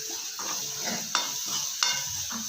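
A spoon stirs amaranth leaf curry in a pan over medium heat, a steady sizzle under repeated scraping strokes with two sharper clinks against the pan.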